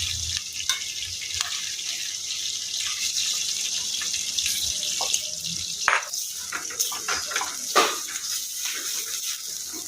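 Tap water runs steadily into a kitchen sink basin during washing, a continuous broadband hiss with a few brief clatters, fairly close and without speech.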